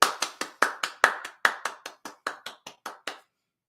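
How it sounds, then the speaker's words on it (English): About fifteen sharp, close hand claps from a single person in a slow, deliberate rhythm, each crisp and distinct, gradually softening before stopping, with no voices. "Let me give that woman some applause on that logic."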